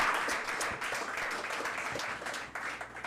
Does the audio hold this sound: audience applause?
yes